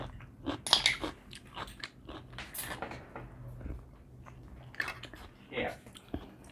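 Someone eating spicy pounded cockle salad with crunchy raw vegetables, giving close, scattered crisp bites and chewing crunches under quiet conversation.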